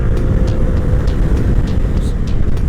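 An FKM Core 188 motorcycle engine roars steadily up close as it accelerates, loud and continuous, with heavy wind rumble throughout.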